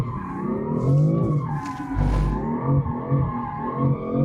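A BMW M4 drifting on a race circuit, its engine revving hard and rising and falling while the tyres squeal through a long skid, loud and near, with a brief low rumble in the middle.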